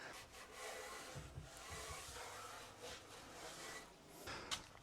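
Wood protection being worked onto the edges of a multiplex plywood board, giving a faint, steady rubbing and scraping against the wood with a few slightly louder strokes.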